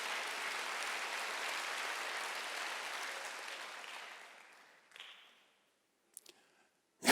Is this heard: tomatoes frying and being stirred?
no